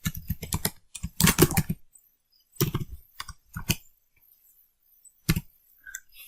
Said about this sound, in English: and then I'll start typing PowerShell maybe